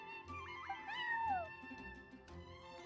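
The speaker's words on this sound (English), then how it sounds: "I'm sorry, that's my neighbor's cat." A cat meows in Genshin Impact with a bright, rising-and-falling call, one drawn-out mew over a soft, steady musical background.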